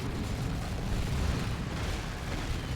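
Artillery barrage in Dawn of War 2: Retribution, a dense, continuous roar of overlapping explosions and booming impacts, loud and sustained throughout with no clear gaps between blasts.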